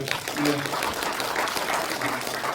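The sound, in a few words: audience applause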